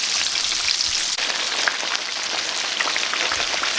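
Chicken frying in oil under a lid, a dense steady sizzle and crackle like rain on a surface, close and continuous with no talking.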